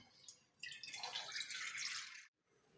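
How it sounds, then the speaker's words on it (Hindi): Tamarind water poured into a kadhai set on a stove, a steady broadband splashing pour lasting under two seconds and then cutting off, fairly close with no talking. "अब हम इसके अंदर डालेंगे इमली का पानी"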